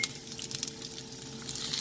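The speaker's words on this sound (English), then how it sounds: "Add the onions" Onions sizzle in a preheated, oiled pan, a steady soft frying hiss with faint crackle that holds evenly from start to finish, close and moderately quiet, with no voice.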